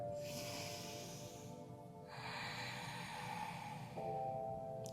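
A slow, deep breath drawn in during a yoga practice, a soft airy inhale and hiss close to the microphone, quiet and alone with no talking.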